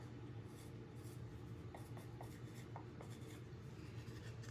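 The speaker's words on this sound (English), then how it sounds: "I'm going to write some numbers on it." A Sharpie marker squeaks and scratches across a sample piece of wood, short strokes quiet and close with no other sound.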